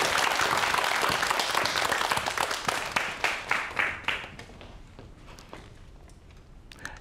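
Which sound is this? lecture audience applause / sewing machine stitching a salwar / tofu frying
lecture audience applause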